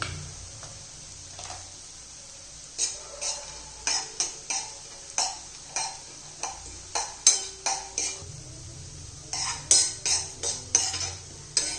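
Nuts stirred in a hot pan for carrot halwa, a steady run of close, rhythmic scraping strokes of a spoon against the pan over a low background hiss of frying.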